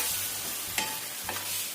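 Food sizzles steadily in a hot pan while a utensil scrapes and stirs twice, close up, with no talking.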